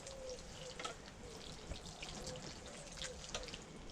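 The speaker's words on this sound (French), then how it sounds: "Donc, on arrose tout autour, on arrose bien." Water is poured from a watering container onto garden soil around a cut plastic bottle, giving a steady close splashing trickle with faint dripping throughout.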